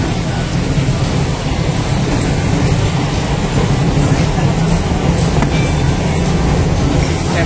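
An MRT train passes toward HI, a steady loud rumble of rolling wheels and rail noise filling the whole stretch without a break, with faint background voices.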